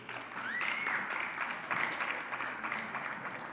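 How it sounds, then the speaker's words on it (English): Audience applause at a live event, a steady wash of clapping that holds throughout, fairly soft and diffuse as if heard from a distance in the hall. "Can we please give them a round of applause?"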